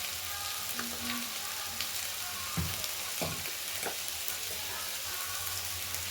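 Spices sizzle and fry steadily in a pan with beans, potatoes and dried fish for a Bengali curry, a continuous close hiss broken by a few clinks and scrapes of stirring, with no talking.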